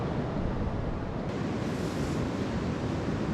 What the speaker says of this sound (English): We just woke up to some increased winds and it's pouring down rain. This is a real storm.